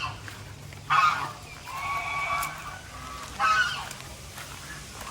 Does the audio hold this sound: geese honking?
yes